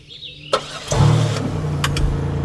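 Rental car in the countryside of Brittany, France, cranking and starting: a click, then the engine catches and settles into a steady idle, close and loud with no talking.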